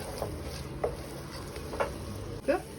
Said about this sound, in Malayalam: പൊടികളെല്ലാം ചേർത്ത് നമ്മളിനി നന്നായിട്ടൊന്ന് വഴറ്റണം.